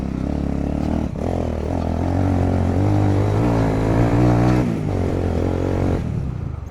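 A motorcycle engine revs hard and rises in pitch, its exhaust crackling and misfiring, loud and close with a few rough bursts through the run.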